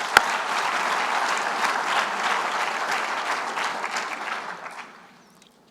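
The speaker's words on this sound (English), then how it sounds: "Please clap the hands." Audience applause fills an award ceremony hall, a steady dense clatter of many hands that holds for about four and a half seconds before thinning out and fading near the end.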